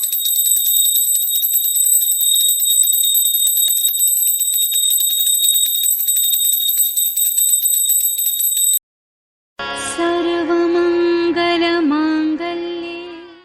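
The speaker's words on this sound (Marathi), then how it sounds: "घंटी वाजव।" A hand bell is rung continuously during a Gauri puja at home, a bright, shrill, rapid ringing that runs steadily for about nine seconds, then cuts off before a different sustained tonal sound follows.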